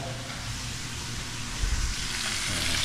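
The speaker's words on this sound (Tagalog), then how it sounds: "At ito, nagpiprito si Papa Raya." Steady sizzling and crackling of fish frying in hot oil, close up and continuous, with a few louder spits and bubbles partway through.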